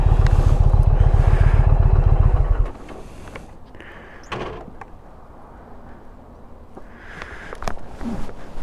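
A Roadmaster motorcycle's engine runs loud and steady at close range for about two and a half seconds, then cuts out, leaving quieter traffic and rumbling ambience afterward.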